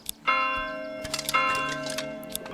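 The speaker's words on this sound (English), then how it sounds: "I think there is a way to ring the bell here." Church bell tolling in the medieval village of Manor Lords, a series of ringing strikes with long harmonic sustain, each new stroke layered over the fading hum of the last, clear and fairly close.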